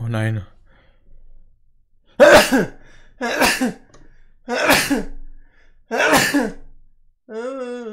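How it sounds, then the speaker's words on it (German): Four loud, sharp sneezes come in quick succession, each a sudden explosive burst. A few brief spoken words come before and after them. "Ich nies immer so häufig."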